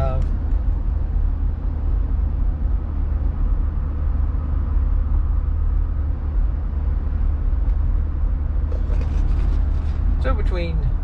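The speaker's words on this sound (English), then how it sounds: "60 and maybe 63 for road noise with the stock tire, stock suspension" Steady tire road noise inside a truck cruising at 45 mph on stock tires and stock suspension, a constant low broadband rumble and hum, with a brief voice near the end.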